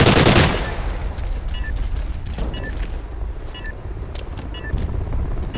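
Rapid gunfire in the multiplayer shooter Call of Duty: Ghosts during a Search and Destroy round, a heavy burst up front followed by repeated sharp shots and distant pops over a steady battle din.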